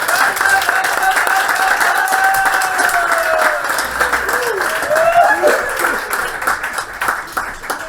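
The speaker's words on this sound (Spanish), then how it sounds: "quisiera pedirles un fuerte aplauso para ellos" Audience applause at a cultural center event, sustained clapping that holds steady for several seconds then thins out and fades, with voices murmuring underneath.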